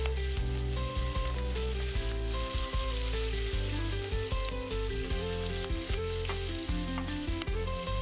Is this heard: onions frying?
yes